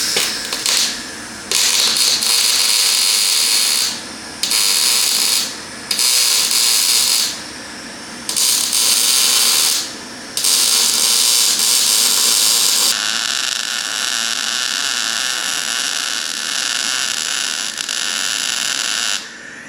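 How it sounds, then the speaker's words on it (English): MIG welding of a patch onto a Toyota Hilux chassis during repair: loud crackling buzz in repeated bursts of a second or two with short pauses, ending in a longer continuous run, no talking. "So now, just a case of actually welding it all together now"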